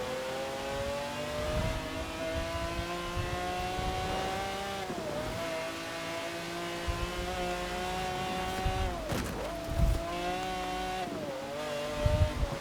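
A McLaren supercar in Forza Horizon 4 roars steadily at high revs through a long run, its pitch sweeping up and down with gear changes and dips, loud and continuous with brief bursts near the end.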